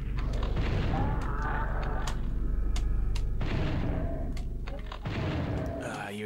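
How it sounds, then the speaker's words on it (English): In the video game DOOM 64, a shotgun booms heavily several times amid dense, loud game noise, while a player talks over much of the action. "I really should be closer if I'm going to be using the shotgun, shouldn't I?"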